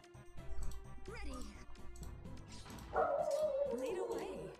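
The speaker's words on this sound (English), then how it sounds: "My stupid ass dog won't shut the hell up." A pet dog yaps and yips repeatedly in the background while someone talks over game sounds.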